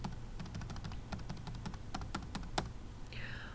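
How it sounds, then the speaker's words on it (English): Credit card numbers being keyed in on a computer keyboard, a quick run of sharp, close clicking keystrokes in an uneven rhythm, with a brief electronic tone at the very end. "You can key in your card numbers"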